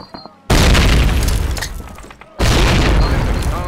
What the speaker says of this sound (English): Throw a grenade into each of the openings before you.